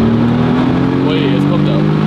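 A 620 PS GAD-Motors V63 car accelerates under full throttle, a loud, rising engine roar with a climbing tonal drone, while people talk over it.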